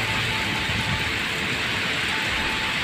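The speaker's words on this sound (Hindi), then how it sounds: "बारिश हो रही है, आप देख सकते हैं।" Heavy rain falls steadily in a rural area of Bijnor, India, a continuous even hiss of drops with no pauses and no one speaking.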